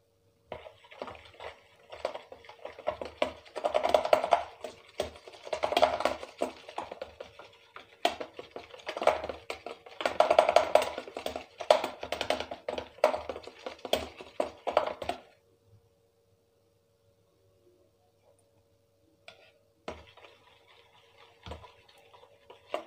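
Oil is mixed into mayonnaise by hand without a beater, giving quick, rhythmic clicking and scraping strokes for about fifteen seconds before it falls nearly silent, with a few faint taps.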